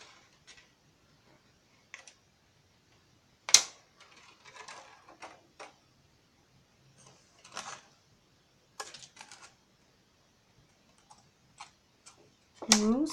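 Scissors snipping a bee shape from a sheet of shrink plastic, close up: scattered short crisp clicks and rasping cuts with pauses between, plus a brief louder scrape near the end.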